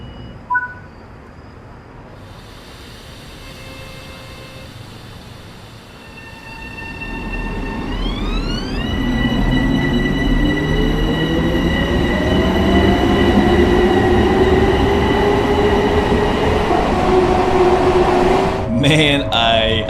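A commuter train on the Harlem Line out of NYC Grand Central in Train Sim World 4 pulls away, its motor whine climbing steadily in pitch as the rumble swells and wheels squeal, loud and close, ending with a few clicks.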